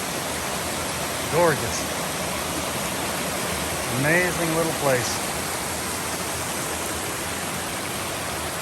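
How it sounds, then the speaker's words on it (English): Cooper Brook Falls, a small waterfall beside an Appalachian Trail shelter pool, pours a steady, loud broadband rush throughout, with a speaker's brief voice heard over it twice. "So this is Cooper Brook Falls."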